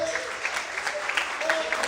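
A church congregation claps together in a dense, continuous round of applause, with a voice speaking over it throughout.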